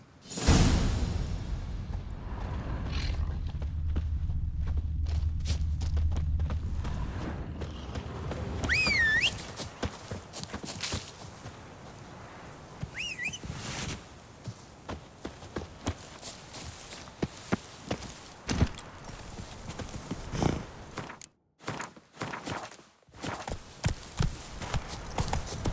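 Roach, Geralt's horse in the PC next-gen version of The Witcher 3, trots with repeated clip-clop hoofbeats that turn into looser, uneven steps, with an occasional swish among them.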